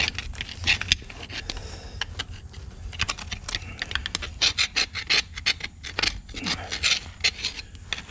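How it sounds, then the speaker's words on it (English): Rapid, irregular scraping and rasping strokes of a hand tool on a metal surface, close and uneven in loudness, with short bursts clustered over the second half and no talk. "So anyway, scrape, scrape, scrape."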